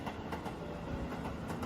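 A train rolls past at a distance with a faint rhythmic clatter of wheels on track and a steady rumble, with no talking.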